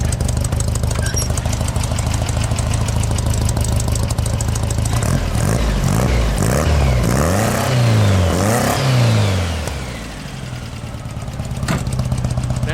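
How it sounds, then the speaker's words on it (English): A Volkswagen engine rumbles at idle, then revs hard several times in quick bursts through the exhaust before settling back to a steady idle. "Here's what that exhaust sounds like."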